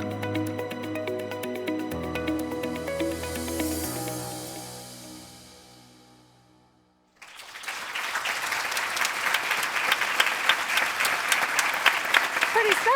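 A crowd at a State of the City address breaks into loud sustained applause after orchestral music fades out, dense clapping that swells and continues steadily.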